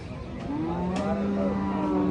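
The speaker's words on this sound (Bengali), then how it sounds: "এই যে দেশি কি সুন্দর গরু মাশাল্লাহ" Cattle at a livestock market in Cumilla give a drawn-out, rising moo over steady crowd noise, with someone talking nearby.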